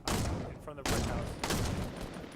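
Three loud shotgun blasts, a double pump setup in a video game, fire in quick succession, each a heavy booming burst with a short decaying tail.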